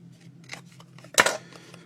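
Scissors snip once through an artist trading card coloured with marker, a short sharp cut in a quiet room with faint rustling of paper before and after.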